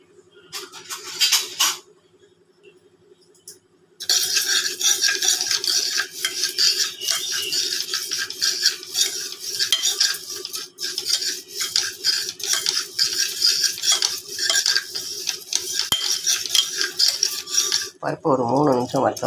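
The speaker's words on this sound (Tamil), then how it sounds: "பருப்பு ஒரு 3 நிமிஷம் வறுத்தா போதும்" Moong dal dry-roasted and stirred in a pressure cooker: a steady, busy scrape and rattle of a spoon against metal with grains shifting, running continuously after a short pause, fairly close and loud with no talking.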